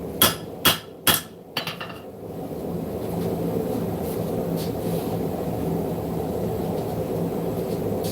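Hammer blows on the horn of an anvil while forging hot steel to shape a knife's finger choil: four sharp, ringing strikes in the first two seconds, then only a steady low background hum of the shop.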